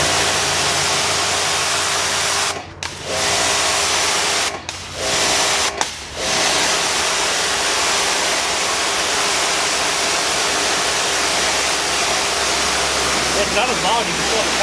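Continuous spray hiss and motor whine from a Ryobi 2000 psi electric pressure washer, loud and steady with three brief dips where the trigger is released.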